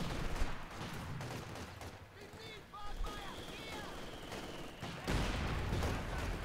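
Machine gun fire and battle noise from the World War II strategy game Company of Heroes 2, a continuous crackling rattle of shots at moderate loudness with a brief dip before heavier bursts return.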